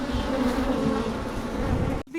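A swarm of bees buzzing around sugar water set out outdoors, a loud, steady close-up drone lasting about two seconds before cutting off abruptly.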